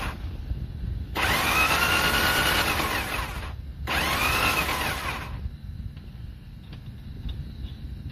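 A Yamaha Virago motorcycle's starter motor cranks in two whirring bursts of about three and two seconds, with a short pause between, loud and close over a low background rumble, then fades back to quiet idle noise.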